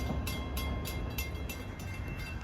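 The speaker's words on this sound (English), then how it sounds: "approaching eastbound at 6:49 is train 1966 from Penn Station to Ronkonkoma" A diesel commuter train draws toward Bethpage station on the Long Island Rail Road at evening rush, with rumbling running noise and a rhythmic series of bright, hissing clacks repeating along its length.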